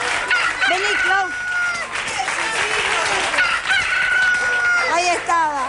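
A person imitates a rooster's cock-a-doodle-doo during a party guessing game, repeating the crowing call several times in a row over crowd noise, laughter and scattered applause.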